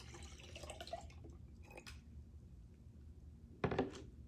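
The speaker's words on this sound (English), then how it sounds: "just fill your container 3/4 full with water." Water poured into a container three-quarters full, heard as faint, scattered drips and trickles with a brief louder splash near the end, alone with no talk.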